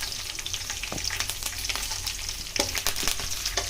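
Peanuts, green chilli and curry leaves fry in hot oil, a close, dense crackling sizzle with a few stirring scrapes throughout, and no talk.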